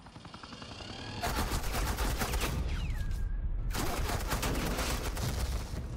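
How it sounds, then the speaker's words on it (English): Suppressing gunfire in Batman: The Enemy Within, a sustained loud automatic burst of rapid shots that starts after a quieter opening, pauses briefly, then resumes, with a whooshing sweep in the middle. "This is Agent Quinn, suppressing fire."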